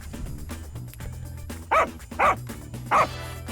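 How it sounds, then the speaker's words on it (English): Three loud, close dog barks land in an even sequence over a low steady background hum, each bark short and sharp with a brief pause before the next. "I will import my dog audio sample."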